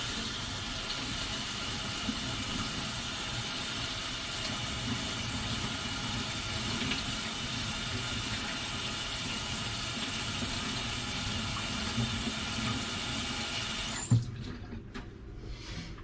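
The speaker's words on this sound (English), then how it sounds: "Let me wash my hands." Tap water runs steadily into a sink during handwashing, a continuous close splashing hiss that cuts off sharply with the tap closing, followed by a few faint drips and handling sounds.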